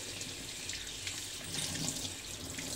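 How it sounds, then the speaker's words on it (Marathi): Kudachya shenga, a wild vegetable, rinsed under a running kitchen tap; a steady, close splash of water flows continuously with faint handling noises and no talk. "नळाखाली ना मम्मी फक्त धुते."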